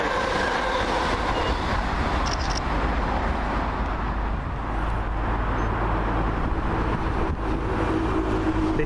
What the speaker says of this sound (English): This little 380 is off to Largs from Glasgow Central